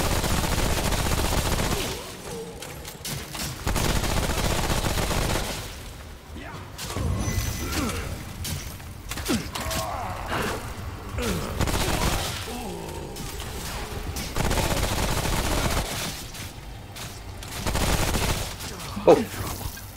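Enemy gunfire in the Remnant: From the Ashes video game during a fight against many enemies: repeated bursts of rapid shots and crashing impacts come in waves, loud and dense, with a sharp pop near the end.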